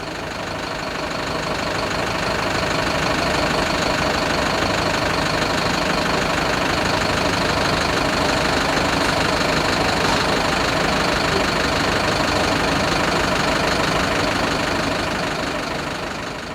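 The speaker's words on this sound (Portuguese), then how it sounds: "deixamos o ruído dos motores dos ônibus sobrepor a trilha sonora" Bus engines idle at a bus station platform, a steady, loud, continuous rumble with mechanical clatter that holds for the whole stretch, with no voices.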